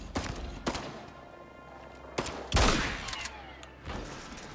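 Gunfire in the video game Icarus: several sharp, loud shots ring out in separate bursts with short gaps between them, the heaviest near the middle.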